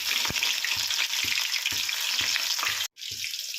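Crushed garlic and cumin seeds frying in hot tempering oil, a steady close, loud sizzle with regular soft stirring thumps and a brief pause near the end.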